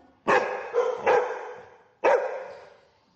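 A dog barks sharply three times at close range, with a quick double bark followed by a single one after a pause.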